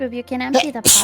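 A single sharp sneeze bursts out at the end of a tabletop game session, right after people talk close by.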